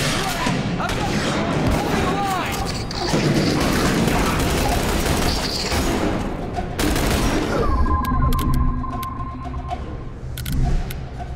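A fire support barrage in The Bureau: XCOM Declassified on PC, with a dense, continuous roll of gunfire and explosions. Voices call out over the battle noise.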